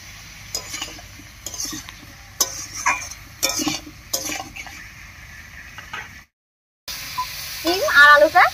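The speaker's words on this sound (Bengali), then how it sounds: "এবারে এই অবস্থায় শিম আর আলুটা একটু ভাজা ভাজা মতো করে নেব" Flat beans and potatoes, seasoned with salt and turmeric, fry in a pan while a utensil stirs them with repeated scraping clatters over a soft sizzle; a voice briefly appears near the end.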